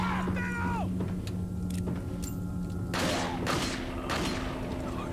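Gunfire in the video game Resident Evil 4 (2005), several loud booming shots spaced through the clip over a steady game background, with a voice heard briefly.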